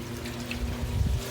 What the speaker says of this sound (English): It's mixing up all that media and dumping the dirty water